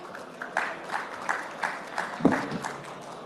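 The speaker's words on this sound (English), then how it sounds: "let's give them a round of applause." Applause from a conference audience at an expo in Dubai, a soft, scattered patter of clapping in a large hall, rising and falling in small bursts with one louder thump partway through.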